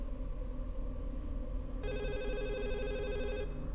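A telephone rings once in a quiet room, a short electronic trill lasting under two seconds over a low background hum.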